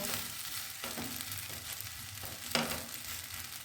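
Oil sizzles steadily in a pan as a radish paratha fries in about a spoonful of oil, with a few sharper crackles and pops rising above the continuous hiss.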